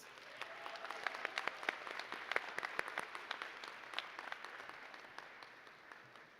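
Audience applauding faculty members at a CCNY 2024 graduate convocation, a steady roomful of clapping with sharp individual claps standing out, holding fairly even for several seconds before slowly thinning.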